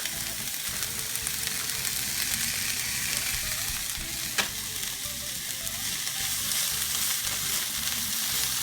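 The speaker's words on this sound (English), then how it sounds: "So next thing I do is I put some carrots in there." Carrots dropped into a hot pan beside boiling pasta water, a steady, dense sizzle of frying that carries on evenly throughout with a brief sharper tick midway.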